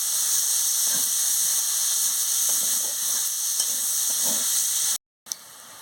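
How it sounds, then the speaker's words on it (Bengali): Cumin and chopped onion fry in a pan with a steady, close hissing sizzle and occasional stirring scrapes, briefly cutting out near the end before resuming. "জিরে দিয়ে দিচ্ছি, পেঁয়াজ কুচি দিয়ে দিচ্ছি, দিয়ে ভালো করে ভেজে নিচ্ছি।"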